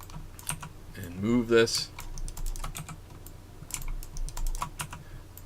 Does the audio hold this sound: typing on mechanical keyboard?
yes